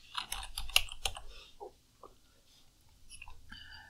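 Keys clatter on a computer keyboard as a material name is typed into a colour-mapping program, a quick burst of close clicks followed by a few sparser taps.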